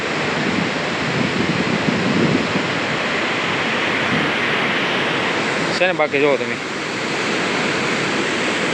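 Water pours in a constant heavy roar over an overflowing village dam at Hamipara after rain, loud and close. Someone briefly speaks over it.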